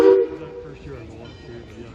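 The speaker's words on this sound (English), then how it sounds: "Now you heard the two whistles, toot, toot" A heritage railway steam locomotive sounds two short whistle blasts, the first loud and bright, followed by a lower rumbling tail as the engine works nearby.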